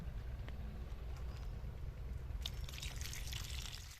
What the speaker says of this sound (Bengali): তারপর একবার ধুয়ে নেবো আমরা